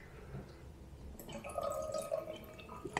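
Water is poured into a bentonite wine-fining sample, giving a faint trickling and dripping that starts partway through and builds into a brief filling gurgle, with no talking.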